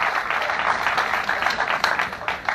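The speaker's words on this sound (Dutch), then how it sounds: "Graag een applaus voor haar." An audience applauds a speaker from Extinction Rebellion coming to the stage at a basic income gathering, steady clapping from many hands at moderate distance.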